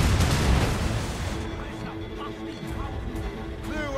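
Ship cannons firing in naval combat in Assassin's Creed Rogue, a heavy booming burst at the start that fades into rumbling crashes, with shouting crew voices over the battle.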